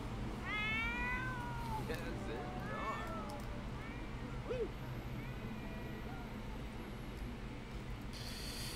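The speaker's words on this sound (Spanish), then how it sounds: "Y el gato ahí mío." A cat meows several times in quick, rising and falling calls near the start, followed by a couple of softer mews, fairly close over a low steady background hum.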